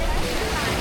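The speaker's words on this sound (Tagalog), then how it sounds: "Lakas ng alon." Strong sea waves off Cameron Island in Thailand, a brief, loud rush of broadband surf noise close by.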